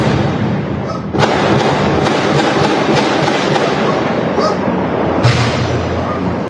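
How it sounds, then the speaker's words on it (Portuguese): Gunfire crackles through the night during a shootout between criminals and police. The shots are dense, loud and rapid, with sharp bursts cutting through sustained noise, and heard from a distance as if recorded from a residential window. "moradores registraram a intensa troca de tiros entre criminosos e policiais durante a madrugada"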